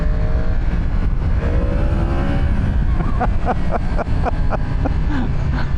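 Loud, close Yamaha R1 sport motorcycle engine droning with rising pitch, then a series of sharp rhythmic revs and pops near the end.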